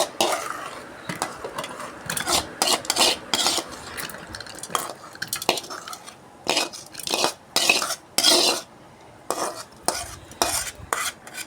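Cooked karpooravalli (kadikoorka) leaves are scooped from a pan into a mixer jar, with intermittent metal scrapes, clinks and stirring taps coming in uneven bursts, close and fairly loud, with no talking.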